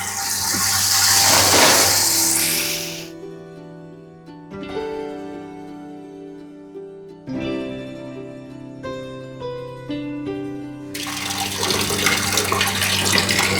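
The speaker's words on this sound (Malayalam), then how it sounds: "സൂചി ഗോതമ്പാണ് ഇപ്പൊ ചേറിയിട്ട് ഇങ്ങനെ വെള്ളത്തിലിടണത്." Sifted broken wheat goes into water to soak, with a loud rushing, splashing pour at the start, a quieter stretch under instrumental music, then more running water at the end.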